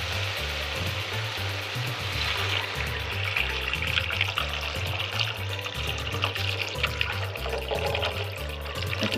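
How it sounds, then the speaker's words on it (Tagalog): Water pours steadily into a cooking pot of sinigang na bangus with browned tomatoes, a continuous splashing wash beneath louder background music with a thumping bass line. "lalagyan na rin natin ito ng tubig"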